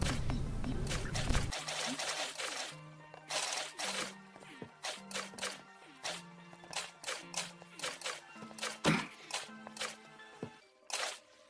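Water is placed block by block on corner blocks in Minecraft Pocket Edition, giving a series of short splashy pours at a steady, regular rhythm, each a brief burst, with a louder rushing wash at the start.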